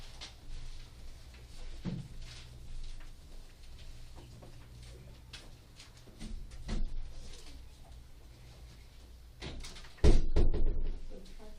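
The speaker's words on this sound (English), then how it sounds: "I need to close the door." A classroom door swings shut with a single loud thud near the end, after a stretch of quiet room noise with a few faint knocks and shuffles.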